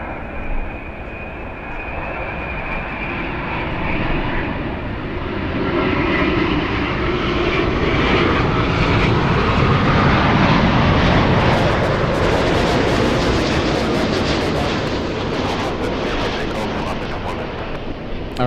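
Airliner at LAX cleared for takeoff, a loud, sustained jet engine roar that swells and holds, with a voice talking over it.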